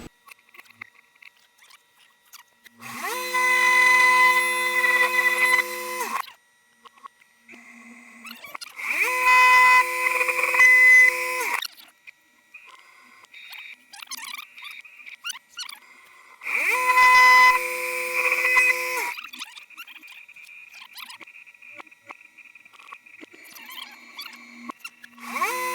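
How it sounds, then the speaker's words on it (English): A milling machine with a fourth axis cuts the welds out of an Uzi receiver, giving three separate bursts of loud, high-pitched whining chatter from the cutter, each a few seconds long, with quiet pauses between them. "I'll plunge in 80 thousandths and then turn the 4th axis to cut the welds out."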